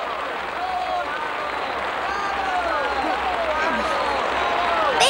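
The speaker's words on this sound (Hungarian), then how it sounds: "Hallgass csak, hogy tapsolnak." An audience applauds after a piano performance, with dense, steady clapping and crowd noise; voices talk over it.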